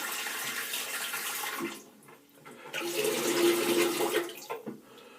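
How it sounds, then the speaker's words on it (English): Water runs from a tap onto a flannel in a muffled, splashing stream, briefly dipping and then continuing, close by with no talking. "excuse the tap running because I am going to run some more"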